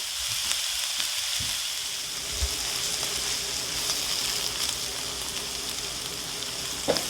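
Finely chopped onion sautéing in a pan with garlic for a spicy Kerala-style tuna pasta, a steady loud sizzle with occasional stirring scrapes throughout.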